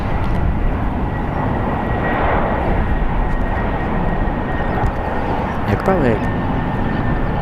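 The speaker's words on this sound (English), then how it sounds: "Arriving on runway 28 right is Alaska Airlines Flight 547 coming in from Boston" Alaska Airlines jet arriving from Boston onto runway 28 right at San Francisco International Airport, a steady, loud engine roar filling the whole stretch while someone talks over it.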